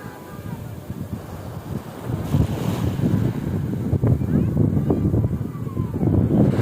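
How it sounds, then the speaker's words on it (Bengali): Sea waves roar and wind gusts at Digha beach under cloudy, blustery weather, a continuous loud wash of surf with buffeting wind noise that swells toward the end. "সমুদ্রের উতাল হাওয়া, মেঘলা ওয়েদার, তার সাথে এরকম সমুদ্রের গর্জন"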